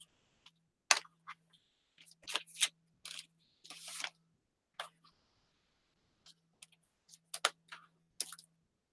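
Scissors snip through paper for a junk journal: scattered short, crisp cuts and clicks, quiet and close, separated by pauses over a faint low hum.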